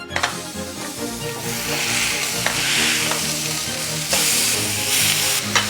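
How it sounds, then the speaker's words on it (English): Beef burger patties sizzle steadily on a hot grill, a loud, close, continuous hiss and crackle with a few sharper pops and brief scraping touches, no voices. "Last thing to do is just grill some patties."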